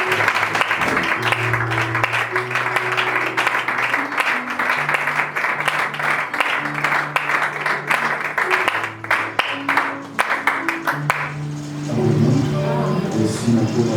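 A church congregation at a Sunday service claps and cheers in praise of the Lord, sustained applause and voices filling the room, fading into scattered claps and talk near the end.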